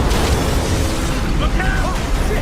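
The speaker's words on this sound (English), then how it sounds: "More tremors." Tremors rumble in the Gears of War video game, a loud, dense, continuous roar and crackle close up, with faint voices under it.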